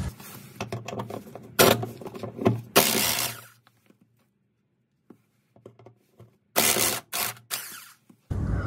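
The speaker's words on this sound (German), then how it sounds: "Ich werde die beiden Schrauben lösen. Schlüsselweite 13." A ratchet wrench with a 13 mm socket loosens two bolts on a Mercedes W124 300TD during a transmission mount change, with close, rapid clicking bursts and loud scraping pulls separated by a silent pause.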